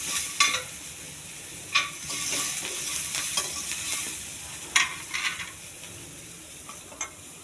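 Tempering spices sizzle steadily in hot oil in a pan for ridge gourd curry, with a spoon scraping and clinking against the pan at irregular intervals; close and moderately loud, no voices.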